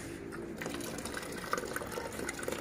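Water splashes and trickles close by as it is poured onto garden plants, a soft, continuous gushing.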